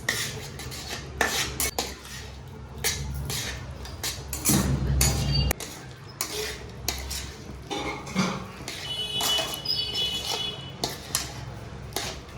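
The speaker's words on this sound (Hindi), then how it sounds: "तो अब हम देखो चाशनी में डालेंगे मूंगफली, अच्छा से चला के और मिक्स करेंगे अच्छे से।" A spoon scrapes and clinks against a metal pan while peanuts are stirred into hot sugar syrup for homemade chikki, with irregular rattling strokes, a dull thump or two, and quiet stretches between, close and alone.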